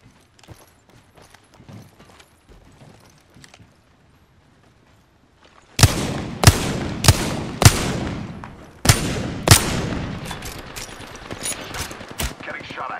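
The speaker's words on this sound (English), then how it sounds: "Getting shot at." Gunfire in Apex Legends Season 13 ranked play: after a few quiet seconds, a run of loud, sharp shots crack in quick bursts, some close together and some spaced, each with a short ringing tail.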